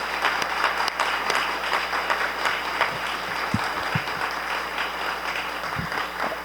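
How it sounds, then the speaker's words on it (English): Audience applause after a panel discussion at a clean renewable energy event: dense, steady clapping from a large room that fills the whole stretch at an even, fairly loud level. "let's give them a round of applause"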